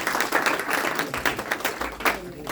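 An audience claps together in a dense, steady burst of applause that carries through the whole short stretch with no pauses.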